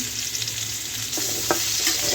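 Potatoes frying in a pan give a steady, close sizzle. Midway it grows louder, with a few short stirring scrapes. No voices are heard.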